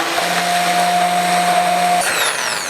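An electric beater whirs steadily as it froths cold boiled milk with sugar, a loud, close, continuous motor hum that cuts off abruptly near the end.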